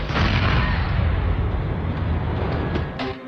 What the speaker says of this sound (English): extremely entertaining crashes, which tend to end in violent explosions